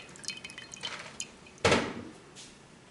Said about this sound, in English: We'll let the lime juice drain out